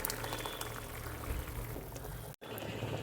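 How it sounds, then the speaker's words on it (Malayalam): Coconut and chickpea curry bubbling in a pot on the stove, a quiet steady simmering hiss with soft popping, faint and close, with no talk over it. "നമ്മുടെ കറിയൊക്കെ ഇപ്പോൾ നന്നായിട്ട് തിളച്ച് വന്നിട്ടുണ്ട്."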